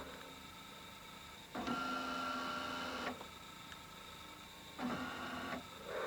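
A laserdisc player that has just been powered on gives two quiet mechanical whirring bursts, each lasting a second or more, over a faint steady hum.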